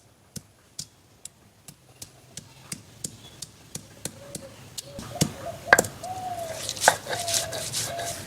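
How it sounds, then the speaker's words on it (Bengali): Onion with ginger and garlic is ground on a grinding stone. Evenly spaced sharp knocks repeat at a quick rhythm, then grow louder and rougher with grinding scrapes, and a voice is faintly heard near the end. "এই যে পেঁয়াজ এখন বেটে নিচ্ছি"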